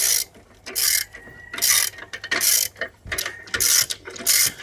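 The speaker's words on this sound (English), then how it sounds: "So it's as if you're loosening the bolt, you're loosening the belt." Repeated ratcheting bursts from a ratchet wrench loosening a bolt on the belt of a Jeep Wrangler engine, about eight quick clicking strokes in a steady rhythm, close and fairly loud with no talk.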